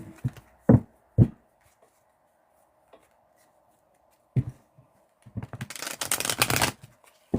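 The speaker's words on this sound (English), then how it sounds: "I need to shuffle." A deck of tarot cards is shuffled by hand in a quiet room: a few brief riffles and taps, then a longer dense burst of shuffling near the end.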